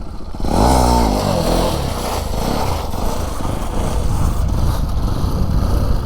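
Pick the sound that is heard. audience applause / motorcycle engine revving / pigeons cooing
motorcycle engine revving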